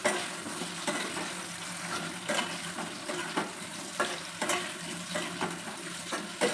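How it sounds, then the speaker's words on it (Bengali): Potatoes and pointed gourd fry in a pan while being stirred, with a steady low sizzle and repeated scraping strokes of a spatulaly recurring every half second or so, close and moderately loud. "এবার একটু নাড়াচাড়া করে নেব।"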